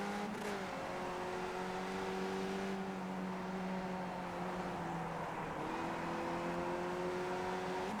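Race car engines in a racing video game, steady droning whine whose pitch drifts down then climbs again as the cars run together, moderately quiet and unbroken, with no talking.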